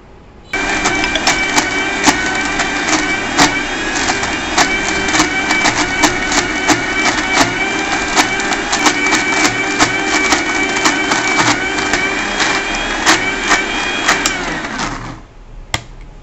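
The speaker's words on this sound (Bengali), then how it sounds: "এটাকে আরেকটু স্মুথ করতে হবে, এখনো হয় নাই, আরও ব্লেন্ড করতে হবে।" A blender whirring through a batch of homemade process cheese, a steady loud motor drone that starts abruptly, runs for about fourteen seconds with small rattling clicks, then winds down and stops.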